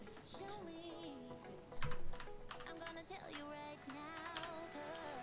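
Keys clacking on a Rii K66 programmable mechanical gaming keyboard, a steady run of close typing taps under background music, with a brief louder burst of clatter partway through.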